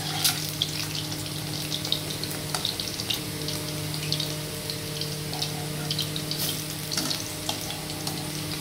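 Eggs frying in oil in a pan until browned, giving an even, close bubbling sizzle over a steady low hum that lasts the whole time.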